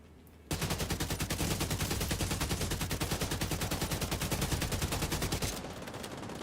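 AK rifle fired in The Division video game, a sustained full-auto burst of rapid, evenly spaced loud shots lasting about five seconds, then cutting off.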